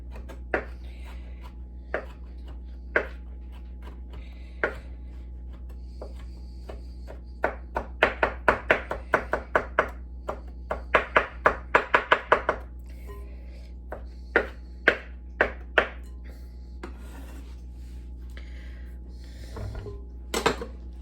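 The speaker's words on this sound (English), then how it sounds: "I'm going to go ahead and just chop these up a little bit" Knife chopping ingredients for tuna fish cakes on a cutting board: sparse single taps at first, then a quick run of close, crisp chops in the middle, easing back to scattered knocks, with a steady low hum underneath.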